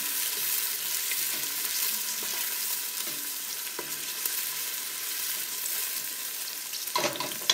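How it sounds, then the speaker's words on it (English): Onion sautéing in a pan, a continuous close sizzle with occasional stirring scrapes and a louder clatter near the end, with no voices. "Now, saute a little bit of the onion."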